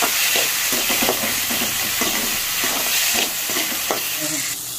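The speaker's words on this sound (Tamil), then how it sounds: "ஸோ இப்போ பாருங்கள் முடக்காத்தங்கீரை நல்லா வதங்கிட்டு இருக்கு." Mudakathan greens and garlic sauté in a hot pan, a loud continuous sizzle and hiss with repeated scraping stirs throughout, easing slightly near the end.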